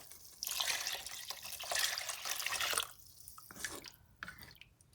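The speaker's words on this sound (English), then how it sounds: "And I'm adding the broth." Broth poured into a pot of Puerto Rican sausage soup with potatoes, a close steady splashing pour that swells in two long surges, then trails off into softer drips and trickles.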